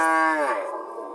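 A dairy cow at a cattle market gives a single short, loud moo close by that fades out within about a second.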